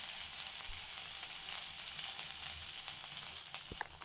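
Curry leaves sizzling in hot oil for idli batter make a dense, even, close-up hiss and crackle that runs the whole time, with a few small pops near the end and no voice.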